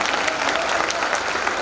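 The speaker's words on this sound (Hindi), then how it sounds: "एक बार आप भी कवि सम्मेलन अगर अच्छा हो रहा हो तो तालियों से सूचित कीजिए।" A crowd breaks into loud, continuous applause at a Hindi comedy poetry gathering held during the Tapti Mahotsav festival, the clapping dense and even from start to finish with no speech over it.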